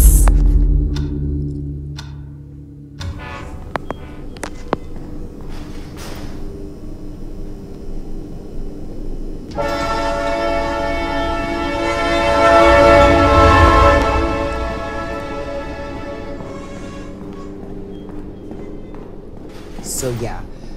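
A train rumbles past in a Roblox train tunnel game while a loud, sustained horn blares for several seconds; clicking and voices come and go around it.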